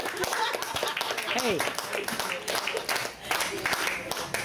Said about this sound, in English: Don't run out of applause for Dustin.